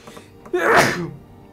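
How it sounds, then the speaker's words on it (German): A single close sneeze bursts out after a brief quiet intake of breath and fades within about half a second, with no other sound around it. "Ah, Hilfe, wir müssen nicht gleich niesen."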